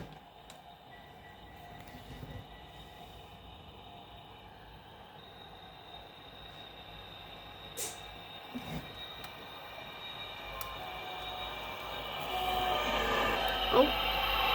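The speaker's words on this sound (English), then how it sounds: "arriving now is a HST" A High Speed Train (HST) pulls into Birmingham New Street station, its rumble building steadily toward the end with a few sharp wheel squeals and clanks, heard at moderate distance amid the station's ambient noise.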